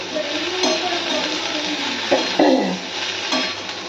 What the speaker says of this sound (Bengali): শুকনো লঙ্কা পেঁয়াজ আর গোটা জিরে ফোড়ন দিয়ে আলু ভাজা